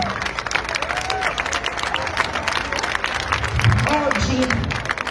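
Crowd applause and cheering at an outdoor demonstration in Cagliari, scattered clapping rising and falling with voices mixed in.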